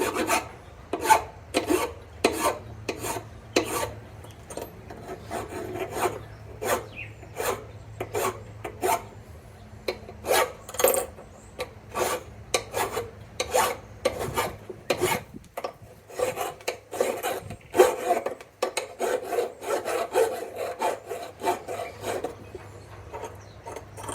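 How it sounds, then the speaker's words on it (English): Hand file rasping over sharp edges of metal speedometer drive parts from a 1967 Triumph T100C motorcycle, a steady run of close, rhythmic strokes with brief pauses between passes. "I think I should probably file some of these down."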